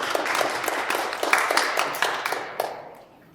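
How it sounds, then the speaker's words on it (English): An audience at a business startup talk applauds for its friend, a steady wash of clapping from many hands with a few sharper nearby claps, holding level and then fading away over a few seconds. "Let's give our friend Kevin a round of applause."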